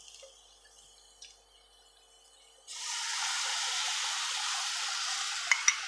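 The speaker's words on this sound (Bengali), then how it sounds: "এরপর আমি দুধ ঢেলে দিচ্ছি।" Milk poured into hot ghee in a pan for carrot halwa. Quiet kitchen ambience gives way to a sudden loud, steady sizzling hiss that carries to the end, with a couple of small clicks.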